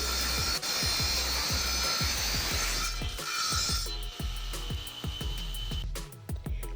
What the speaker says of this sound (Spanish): la máquina también presentaba la funcionalidad de realizar cortes en ángulo, lo cual nos facilitó la realización del corte de los bordes